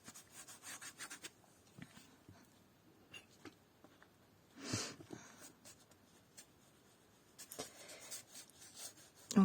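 A fingertip rubbing colour into art journal paper, soft intermittent scratchy strokes close by, with one longer louder rub midway and short gaps between.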